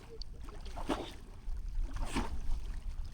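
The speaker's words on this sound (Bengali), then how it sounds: "নৌকা এপাশে ওর জন্যই যাচ্ছে" A rowing boat moving across an oxbow lake, with two soft, distinct oar strokes and water swishes about a second apart over quiet, gentle ambient noise.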